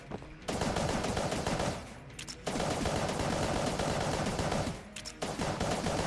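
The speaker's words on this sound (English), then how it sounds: "I can just spam shots." Rapid, continuous gunfire from a gun in Enter the Gungeon, with dense repeated shots that pause briefly twice before resuming, loud and sustained.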